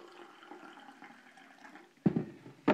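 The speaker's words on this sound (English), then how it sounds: "And you see me pouring the water in here." Water from a filter pitcher pours into a container, a steady close trickle for about two seconds before two short louder splashes near the end.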